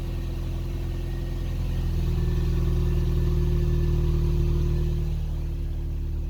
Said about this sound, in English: You see my car's on.